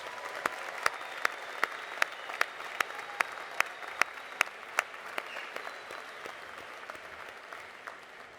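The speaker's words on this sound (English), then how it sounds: "let's give all those folks a round of applause on your behalf" Applause rolls through the crowd at a 2019 graduate commencement, a sustained wash of clapping with a steady beat of louder single claps, moderately distant and tapering near the end.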